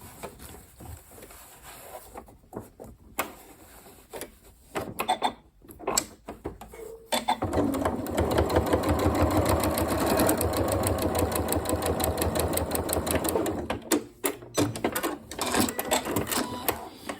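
Sewing machine stitching along the sides of a cushion: a few scattered mechanical clicks and short bursts first, then a sustained steady whirring run for several seconds before it slows and stops.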